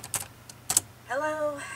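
A few quick key taps on a laptop keyboard, an RM T2050, sound close and crisp, followed by a short burst of synthetic voice-like tone.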